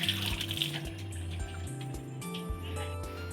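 Tap water runs steadily into a sink while hands are rubbed and rinsed beneath it, with soft splashes and shifts in the flow from close by.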